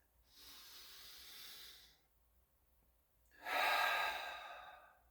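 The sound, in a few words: a person taking a breath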